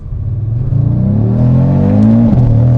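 An Audi in drive is floored at full throttle with traction control on. The engine note climbs steadily, loud and close, then dips at a brief shift and pulls on.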